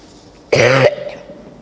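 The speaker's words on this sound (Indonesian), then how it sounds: "Maaf ya, saya batuk." A single short, harsh cough, loud and close, followed by quiet room tone.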